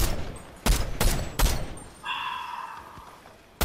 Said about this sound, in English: but he's firing shit over here.